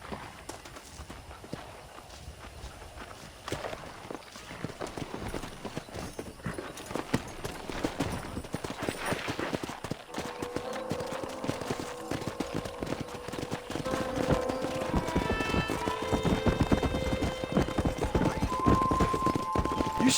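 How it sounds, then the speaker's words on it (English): Wild horses in the Red Dead Redemption video game, hooves clip-clopping steadily on open ground with an occasional whinny, layered under rising music and ambient game sound. "That ranch hand said there's a pack of wild horses nearby."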